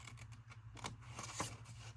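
Scissors snip a paper crease off a corner-tuck pocket flap in a few short, soft cuts over a steady low background hum.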